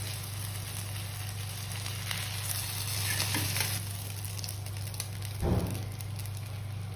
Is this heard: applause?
no